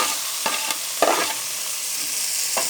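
Chopped tomatoes hit hot oil in a pan for tomato bath, a loud close sizzle with a few sharp spoon scrapes and clinks breaking through the steady hiss, no voices.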